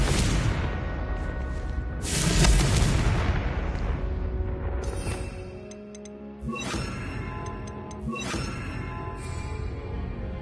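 Explosive spells blast in Hogwarts Legacy gameplay, several booming impacts with ringing, metallic tails layered over dense game music and ambience, one after another across the stretch.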